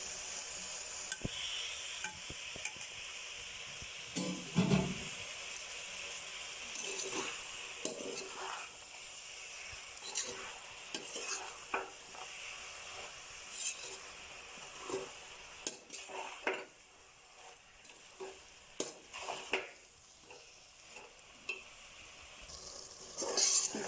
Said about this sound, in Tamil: புதினா மல்லித்தலை ரெண்டுமே இது கூட சேர்த்து நல்லா கிளறி விட்டுக்கணும்